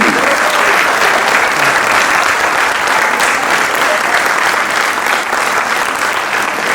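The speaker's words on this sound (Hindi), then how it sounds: "जोरदार तालियों से स्वागत करें।" A theatre audience at a founding-day stage play applauds strongly, a thick, continuous wash of many hands clapping that holds steady for nearly seven seconds, with no voices over it.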